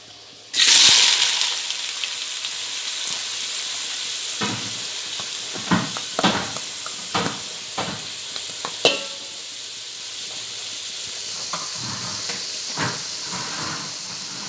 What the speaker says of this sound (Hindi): उसमें तेल गरम हो गया है। अब मैं इसमें प्याज डालूँगी।